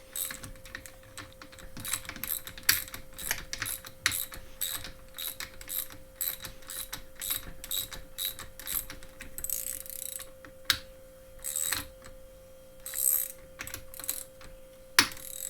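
A KTM WP dual-chamber fork cap ratchets off its threads under spring tension, giving rapid close clicking and ratcheting bursts over about fifteen seconds with short pauses and no talking.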